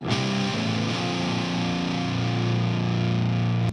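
A heavily distorted electric guitar, set to a chunky distortion tone, rings out with a thick, sustained chord, played alone and loud, shifting notes early then holding steady.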